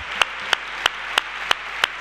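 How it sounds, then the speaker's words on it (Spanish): An audience at a televised gala in Cádiz claps in a steady, evenly spaced rhythm. The sound is moderately quiet and has no talk over it. "se merece también un aplauso por nuestra parte"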